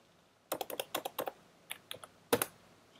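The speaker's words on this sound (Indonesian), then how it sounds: "Kemudian kita ketikkan di bawahnya" Fingers type on a computer keyboard while writing HTML5 form code in Visual Studio Code: quick clusters of crisp, fairly quiet keystrokes, a pause, then a few more taps and one final firmer press.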